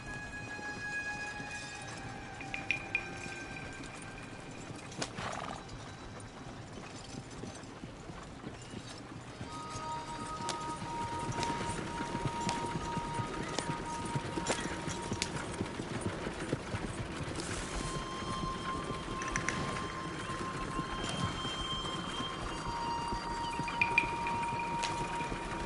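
Horse hooves in the Western video game Red Dead Redemption 2, a steady, moderately close clip-clop at a walking pace that continues evenly throughout with no talking.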